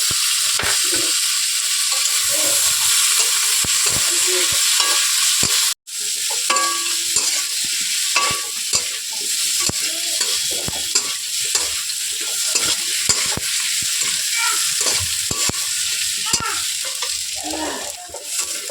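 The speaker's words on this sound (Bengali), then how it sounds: "এবার ভালোভাবে কষিয়ে নিতে হবে। টমেটোগুলো দিয়ে দেবো।" Tomatoes stir-fried with potatoes, turmeric, salt, cumin and coriander powder in a pan, a dense steady sizzle broken by frequent spatula scrapes and taps, with one abrupt clatter early on, close and continuous throughout.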